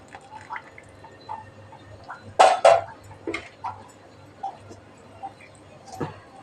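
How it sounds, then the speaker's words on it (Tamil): Masala-coated ayila fish pieces drop one by one into a boiling fish curry, making a few soft plops and splashes spread over several seconds, quiet and close over a low bubbling background. "மசாலா தடவி வச்ச மீன் ஒவ்வொன்றா போட்டுடலாம்"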